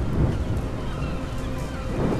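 Low rumbling thunder rolls through a storm at sea in the Assassin's Creed 3 video game, a steady dense roar with rain and wind, loudest at the start and end, no talk.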